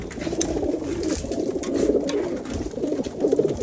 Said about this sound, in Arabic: الحمام مبسوط، نسأل الله التوفيق يا رب إن شاء الله